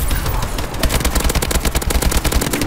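Rapid automatic gunfire from an Advanced Warfare zombies video game, a dense, continuous burst of shots with sharp repeated cracks throughout, loud and close with no talk.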